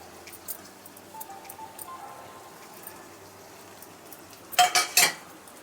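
Radish fry curry with kasuri methi is stirred in a pan: quiet scraping and faint sizzle, ending in a short burst of loud metallic clatters from spoon against pan.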